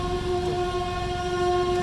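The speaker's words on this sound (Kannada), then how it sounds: "ಟ್ರೈನ್ ಹೋಗ್ತಾ ಇದೆ, ಜೊತೆಗೆ ಹೋಗ್ತಾ ಇದ್ದೀವಿ." A train passing near a road during a motorcycle ride, heard as a loud, steady rumble with a sustained horn-like tone throughout the short clip.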